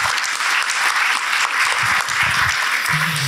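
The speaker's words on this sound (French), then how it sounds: "vous pouvez l'applaudir" An audience at a morning corporate event in a hall claps warmly and continuously, a full, even burst of applause lasting several seconds.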